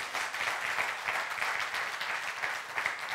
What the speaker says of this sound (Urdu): تالیاں بجائیے میرے بھائی کے لیے